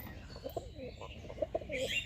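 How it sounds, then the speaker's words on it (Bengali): Pigeons in a new pigeon loft coo softly in short, repeated throaty phrases, faint and close, over quiet background noise. "এই যে পায়রা"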